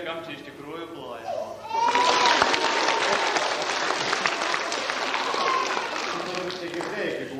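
A theatre audience breaks into loud applause after a short stretch of voices, the dense clapping swelling and continuing steadily, with children's voices and a few shouts mixed into the crowd noise.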